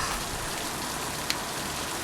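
Rain in the video game Littlewood, a steady close hiss of drops pattering on surfaces with one faint brief click partway through, no voices.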